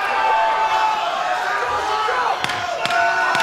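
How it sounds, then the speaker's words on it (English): A sharp ten-second warning clap, struck twice near the end, cuts through a loud, urging crowd at a professional fight event, with the crowd noise sustained the whole time. "Urging them on as we hear the 10-second clap"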